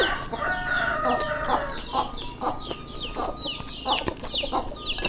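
Several chickens cluck repeatedly in quick, overlapping bursts close by, with sharp squawks scattered throughout.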